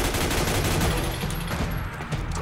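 Rapid video-game gunfire from Metal Gear Solid 4, a dense continuous fusillade of overlapping shots filling the whole moment at a loud, steady level with no talk.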